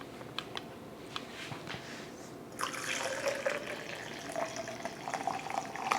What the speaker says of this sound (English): And then we have to add the coffee.